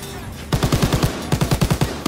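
Rapid bursts of machine gun fire in the Call of Duty WW2 game, two close, loud volleys of about six shots each separated by a short pause.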